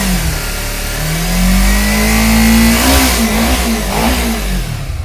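A Kawasaki Ninja 250 motorcycle engine revs loudly close by: the pitch climbs smoothly, holds high, then wavers through a few quick throttle blips before settling back down.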